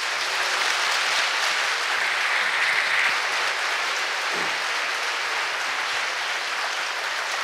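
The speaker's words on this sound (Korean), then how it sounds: "여러분 뜨거운 박수 부탁드립니다." Warm, steady applause from a concert audience at a Korea University hall as a soprano is welcomed to the stage, a full continuous patter of many hands, close and even throughout with no voices over it.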